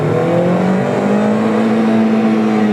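A Honda Amaze i-VTEC car accelerates hard in first gear. The engine note climbs steadily in pitch, loud and close, with no pause.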